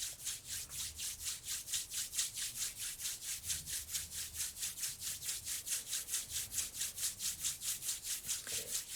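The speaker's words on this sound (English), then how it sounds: "we're just going to collectively rub our hands together" Hands rubbing together briskly, a steady back-and-forth swishing of palms repeating about three times per second, close and fairly quiet with no talk.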